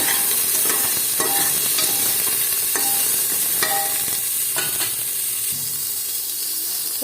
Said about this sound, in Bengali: একটু নেড়ে দেবো